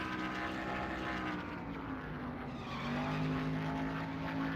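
A race car engine in the video game NASCAR Thunder 2003 drones steadily, its pitch rising gradually as it accelerates, loud and continuous with no talking.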